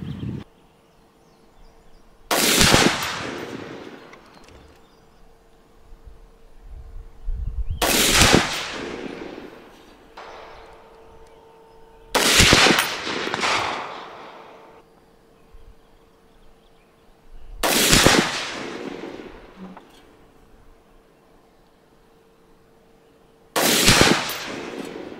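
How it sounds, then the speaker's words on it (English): A Sig 716i rifle firing Federal 175 grain ammunition outdoors: five sharp, loud shots spaced about five seconds apart, each followed by a rolling echo that fades before the next. "Federal 175 grain up next. We're gonna shoot that at the bottom left."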